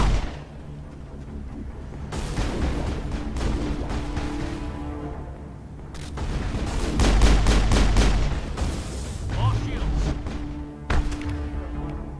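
Pistol gunfire in the Mass Effect video game, loud clustered bursts of rapid shots in several separate volleys over a rumbling background, with no voices.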